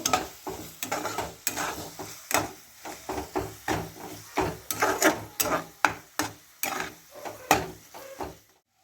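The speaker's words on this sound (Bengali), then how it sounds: "জিরে গুঁড়ো দিয়ে দিলাম এক চামচি দিয়ে ভালো করে মশলাটা কষে নেব" A spice paste with cumin powder is stir-fried in a pan for fish biryani, with steady, evenly spaced scraping strokes of a spoon and a soft sizzle underneath, close up and without voices.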